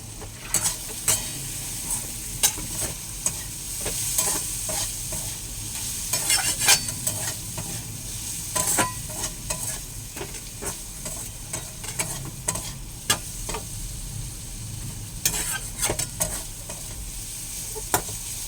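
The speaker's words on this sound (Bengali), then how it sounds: "একটু ধনের গুঁড়ো, একটু জিরের গুঁড়ো, সব দিয়ে দিই।" Ground spices such as coriander and cumin sizzle in hot oil in a pan, with steady frying hiss and repeated scraping, clinking stirs of a utensil against the metal throughout.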